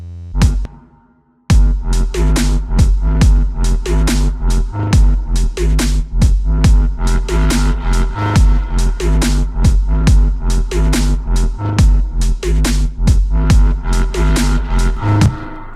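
A heavily processed, wet mid bass plays over a punchy drum loop, loud and continuous after a brief quiet lead-in. Steady rhythmic hits and bass notes repeat throughout with no talking.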